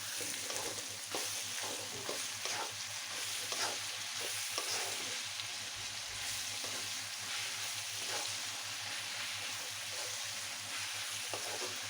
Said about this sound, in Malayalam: സവോള ഒന്ന് നന്നായിട്ട് വഴണ്ട് വരുന്ന വരെ വെയിറ്റ് ചെയ്യാം.